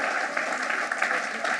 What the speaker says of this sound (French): Acclame Jésus, acclame Jésus, acclame Jésus